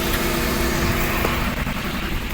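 Steady mechanical rumble and whine from a Hyundai i20 with a faulty steering rack, loud and close, continuous with no talk over it.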